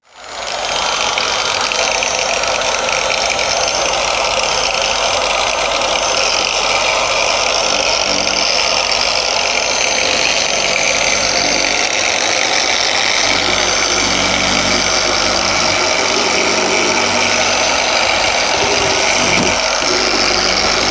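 Polishing machine smoothing a yellowed car headlight, a loud continuous high-pitched whirring drone that starts abruptly and holds steady for the whole stretch with no talk.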